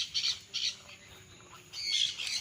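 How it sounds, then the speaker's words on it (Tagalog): Pet birds on a rural farm with huts squawk in short harsh bursts, two quick calls followed by a longer, louder squawk, moderately close and unaccompanied by talk. "Meron silang alagang mga ibon mga kapraps."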